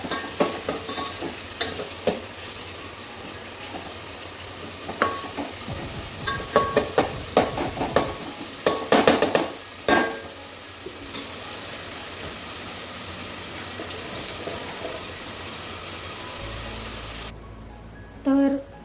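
Onions sizzling in a pan for a spicy Kolhapuri mutton curry, with a steady frying hiss throughout, clusters of clattering stirring strokes in the middle, and a brief louder scrape near the end.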